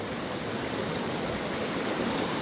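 River water flowing on a calm day during gold prospecting, a steady, even broadband rush with no breaks, close and moderately loud, with no voices over it.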